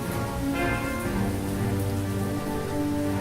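Steady rain pattering on surfaces at a tiny, deserted train station with an empty platform in the adventure game Lost Horizon, continuous and fairly loud, with a low rumble underneath and no voices.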